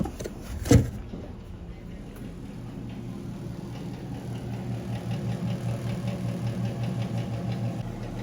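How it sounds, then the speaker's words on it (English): Kitchen stove extractor fan labouring against strong wind, a faint, steady low drone with a pulsing, uneven flutter, preceded by a brief sharp knock near the start. "That's the extractor fan struggling against the wind."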